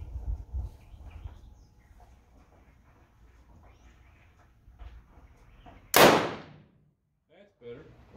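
.357 Magnum revolver fired once outdoors at a target, a single sharp loud crack partway through with a short decaying tail, amid quiet outdoor background and faint low rumble.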